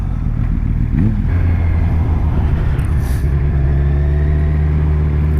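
A 2017 Kawasaki Z1000 motorcycle cruises in fifth gear, its engine producing a loud, steady, close drone with a brief rise in pitch near the start and constant wind and road rush throughout.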